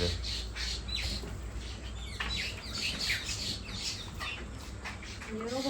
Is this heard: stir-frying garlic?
no